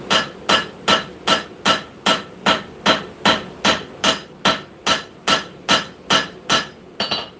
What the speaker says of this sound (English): you want to be hammering in the same exact spot and moving your blade